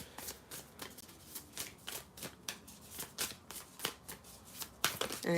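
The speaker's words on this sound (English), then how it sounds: "then I'm going to start shuffling the cards." Rapid, rhythmic shuffling of a tarot card deck, a steady run of soft flicks and slaps at moderate volume with no talking.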